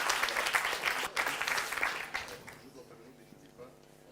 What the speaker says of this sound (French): Il va nous rejoindre sous des applaudissements aussi